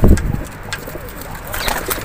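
Pigeons in the UAE coo softly nearby in low, throaty calls, with a brief rustle at the start and faint outdoor background.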